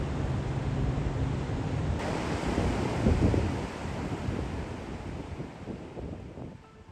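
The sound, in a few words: ocean waves on a sandy beach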